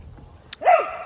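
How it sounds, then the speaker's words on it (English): A dog barks once, close by, after a brief click, with a single sharp bark that rings out briefly in a quiet outdoor setting. "as you can hear, we're out with Nut Job, not Bob, Crazy Pants the dog"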